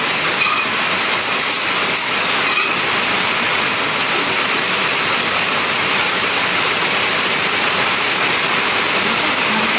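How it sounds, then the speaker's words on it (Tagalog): Dense, steady hiss of heavy rain pours without letup, loud and even throughout, with no voices. "Nakikita niyo mo na ulan, lalakas ng ulan mga kapatid"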